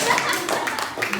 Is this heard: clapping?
yes